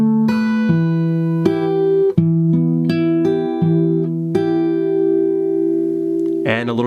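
Guitar plays section four of a song at a slow tempo, with a few sustained plucked notes and chord changes ringing close and alone, ending in a brief burst of noise.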